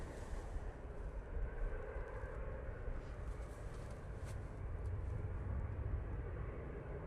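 A four-engined Emirates airliner at Manchester Airport, its outer and inner engines pitched slightly differently, hums as a faint, steady, distant rumble with no clear peak.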